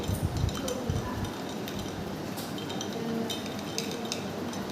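Liquid stirred continuously in glassware during a thermistor cooling experiment in a physics lab, giving a steady wash of light clinks and scraping over a constant background hiss.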